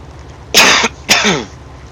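Two harsh coughs from a person getting over a cold, close and fairly loud, separated by a short pause, with no talking.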